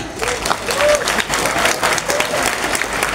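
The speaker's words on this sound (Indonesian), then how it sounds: "Ayo tepuk tangan." A large audience at an Islamic boarding school graduation ceremony applauds, a loud, dense patter of many hands clapping throughout, with faint background tones beneath.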